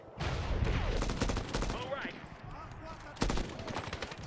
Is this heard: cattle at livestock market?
no